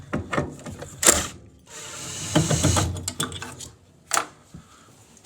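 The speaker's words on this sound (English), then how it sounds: "Take off the gas valve in the bracket first." Metal tool clicks and ratchets while a gas valve is freed from its bracket on a Coleman manufactured-home furnace, a string of short close mechanical bursts and scrapes with gaps between them, no talking.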